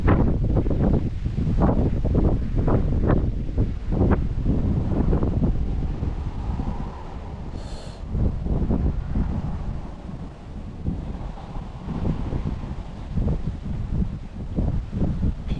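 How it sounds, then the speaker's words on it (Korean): Strong wind roars continuously across the microphone beside a fishing canal at Gimhae, loud and buffeting with rumbling gusts for the whole stretch. "바람 많이 불다"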